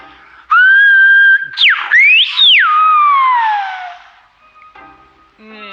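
Silbo Gomero whistled language: a single loud, close whistle spells out a name in sliding, rising and falling pitches for about three and a half seconds. Faint sounds follow afterward.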